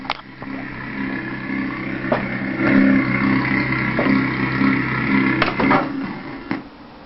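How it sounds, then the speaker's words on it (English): A manual car engine hums steadily with several mechanical clunks, then shudders and stalls when put into first gear without the clutch held down near the end. "Listen carefully to the sound of the engine as I put it into first gear without holding down the clutch."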